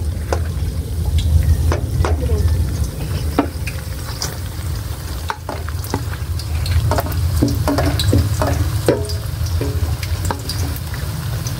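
Banana heart sautéing in a pan, with loud continuous sizzling and frying close up, frequent clinks and scrapes of a spatula stirring, and occasional watery splashes.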